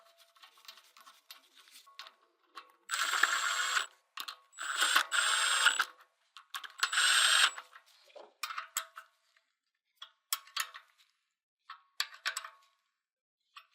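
Screws are driven to secure a pulley holding fixture to an engine block, several short bursts of a whirring tool close by, separated by quiet gaps and light metallic clicks.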